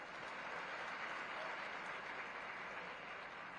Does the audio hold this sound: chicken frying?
no